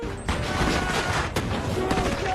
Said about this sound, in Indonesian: Aksi baku tembak pun terjadi di sana.